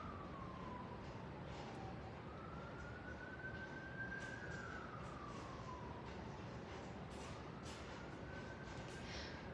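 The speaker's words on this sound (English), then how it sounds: "Can you guys hear the siren?" A siren wails continuously outdoors, rising and falling in long sweeps. It sounds moderately distant over a steady background rumble, and no one speaks.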